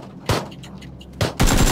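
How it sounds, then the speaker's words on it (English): Automatic gunfire from the battle royale game PUBG cracks out in three short, loud, close bursts, with the last burst running on as sustained rapid fire. "His teammate is just shooting at us right now."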